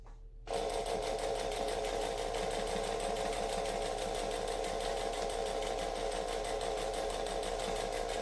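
A sewing machine stitches slowly and steadily around the curved seam of a heart-shaped eyeglasses case, running in a continuous close hum after a brief quiet start.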